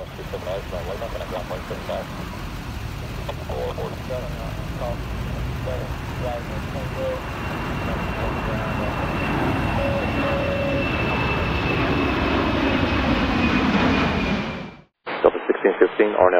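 A heavy jet airliner takes off from runway 27 right at Atlanta airport, its engine roar building steadily and holding loud for about fourteen seconds before cutting off abruptly. A whining tone runs through the roar.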